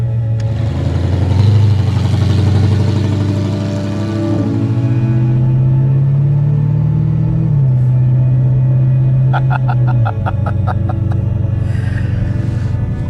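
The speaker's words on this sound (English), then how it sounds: "that is the proper sound of the boss machine" A Mercedes 500 SEC C126 V8 runs with a deep, steady rumble that swells and eases as the revs shift, close and loud throughout, with a faint rattling texture near the end.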